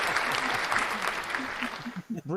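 Brief applause from a small group around a podcast table, clapping and cheering steadily for a couple of seconds, mixed with voices that break in as it fades.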